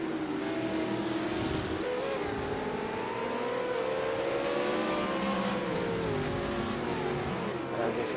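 A damaged V8 Supercar being pushed hard around Bathurst's Mount Panorama circuit in the game Project Cars, its engine droning loud and continuous with shifting pitch as it revs, without a break across the whole stretch.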